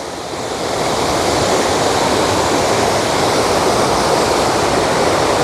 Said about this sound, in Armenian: ահա, ջրվեզից հոսող թափող ջուրն է